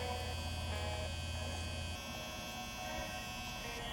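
Electric hair trimmer buzzing steadily up close while outlining a haircut around the sideburn area, a bright continuous hum whose pitch shifts partway through.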